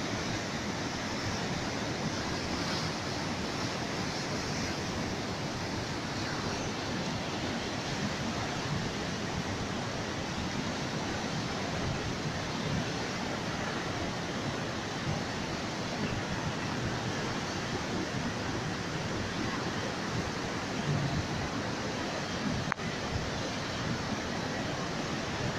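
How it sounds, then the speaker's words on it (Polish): A high river runs in flood near a suspension bridge, giving a continuous broadband rushing roar that stays even and fairly close throughout, with no talk over it. "O, i prawie tutaj się przelewa woda."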